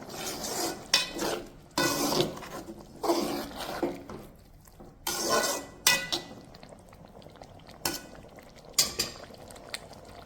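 A spinach and keema gravy is stirred in a pot, a spoon scraping and knocking against the metal in irregular bursts with quieter simmering between strokes, close and moderately loud with no talking.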